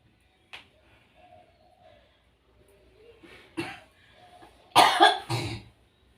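A person coughs during a traditional massage, with a faint early cough and then a few louder, harsher coughs clustered near the end, close to the microphone in a quiet room.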